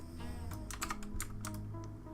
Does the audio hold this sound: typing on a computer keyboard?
yes